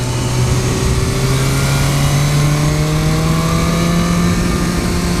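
A 2015 BMW S1000R motorcycle engine pulling hard under acceleration, with a loud, steady, close-up drone whose pitch climbs gradually and holds strong with wind noise throughout.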